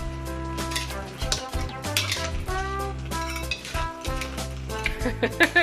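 Crab stir-fried with egg and curry powder in a hot pan, with steady sizzling and frying noise under bright clinks and scrapes of a utensil stirring against the pan, loud and close, with no talking.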